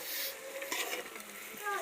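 Chopped tomatoes softening in a pan for rasam, stirred with a utensil: a faint, quiet mix of soft scraping and light sizzling, close by, with no voices.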